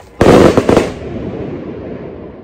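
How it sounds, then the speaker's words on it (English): A loud daytime firework bang bursts out in Positano, followed by a couple of quick sharp cracks, then a long rumbling echo that slowly fades away. "they're setting up a couple of daytime fireworks, which really are just very, very loud bangs"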